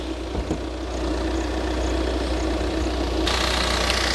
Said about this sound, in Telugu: ఇంజన్ సౌండ్ చూపిస్తా చూడండి.